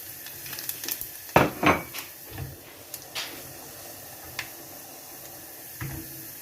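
Garlic and cumin tadka sizzles in hot oil on a stovetop, a soft, continuous fry punctuated by a few sharp clinks and scrapes of a pan or utensil, fairly quiet and close with no talking.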